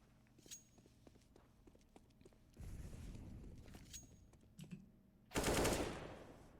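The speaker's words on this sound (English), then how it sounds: "Good shot there from Thomas." Gunfire in Counter-Strike: Global Offensive during an ESEA Advanced EU upper-bracket final match, with scattered clicks and footsteps before a short burst of shots and then one loud, close volley near the end.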